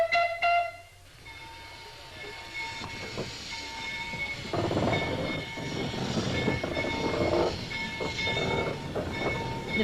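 The 1927 Vulcan Iron Works 0-4-0 locomotive Henry Clay pulling a short train on a Pennsylvania shortline, a steady rumble with metallic ringing and faint wheel clatter, fairly close, no talking.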